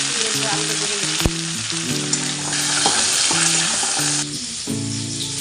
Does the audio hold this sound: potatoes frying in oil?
yes